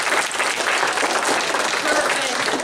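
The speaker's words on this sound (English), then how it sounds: "Give a round of applause if you've been to one of our shows before." Dense, steady clapping from an audience fills the room at a comedy improv show, loud and continuous with no pauses.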